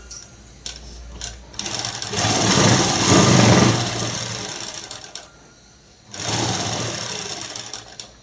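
A sewing machine runs in bursts while stitching night dress cloth, a loud steady whirr that rises, fades to a pause and starts up again close by, with no talk.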